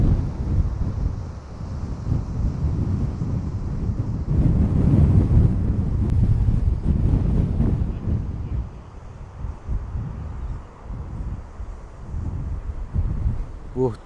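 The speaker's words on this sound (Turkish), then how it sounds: "Bu dalgaların kayalara çarpışı muhteşem bir manzara çıkartıyor ortaya ya." Ocean waves crashing on rocks at the Cape of Good Hope, broad surging roar swelling and ebbing under strong wind buffeting the microphone.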